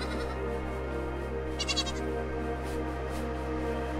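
A brief cluster of high, thin sheep bleats, including lambs, rises over a constant droning background in the video game Aer, then fades back into the hum.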